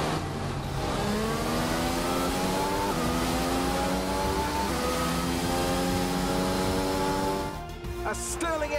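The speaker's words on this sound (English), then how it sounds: "we just have to race to the finish line a few hundred more meters" A Formula 1 race car engine in a Jeddah racing video game wails at high revs, holding a steady rising scream with gear-shift steps before it drops off near the end.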